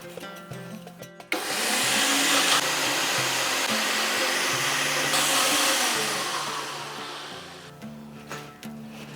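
A mixer grinder whirs loud and steady for several seconds, grinding a thick spice paste with yogurt and a green chili and no water, starting abruptly after a short pause and slowly winding down near the end.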